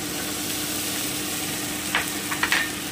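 Spices and chilli and pepper pastes sizzle steadily in a pan for a cabbage kofta curry, a constant hiss with a few brief scraping stirs near the end, no voices.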